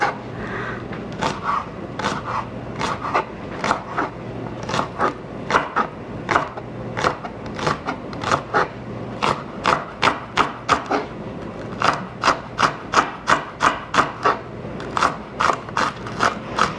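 A knife slices through green onions on a cutting board in a quick, even run of crisp chops, close and loud, with brief pauses between bursts.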